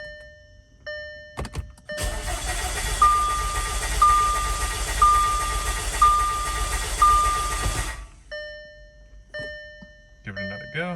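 A built Audi A4 B8 with a big turbo cranks on low fuel, the starter whirring rhythmically for about six seconds between quieter stretches with faint beeps.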